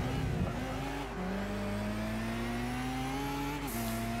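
A race car engine in Gran Turismo 6 during a 600PP World Touring Car Championship event, holding a loud steady high-revving drone with a brief dip and shift before climbing again, with no talk.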